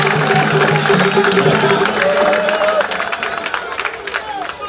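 An assembly at a student bus handover ceremony in the DRC applauds the President, loud crowd clapping and cheering with voices mixed in, gradually easing toward the end.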